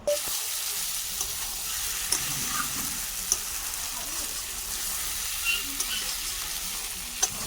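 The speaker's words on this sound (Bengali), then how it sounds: "মাংসটা খুব সুন্দরভাবে কষিয়ে নেওয়া হচ্ছে, যেহেতু এটা খাসি মাংস।" Goat meat being sautéed in a home kitchen pan for a thin Bengali curry, a steady soft sizzle and hiss with occasional clinks of stirring, fairly quiet and close.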